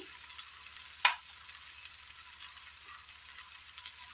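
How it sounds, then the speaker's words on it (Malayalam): Tomatoes fry gently in a pan with a faint, even sizzle over a low steady hum, broken once near the start by a single sharp clink of a utensil. "തക്കാളി നന്നായി വഴന്ന് കിട്ടിയിട്ടുണ്ട്"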